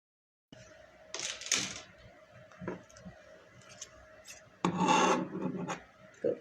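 Scissors snip through trouser fabric in a few short rasping cuts with quiet pauses, ending in one longer, louder cutting stroke, close and with no talk.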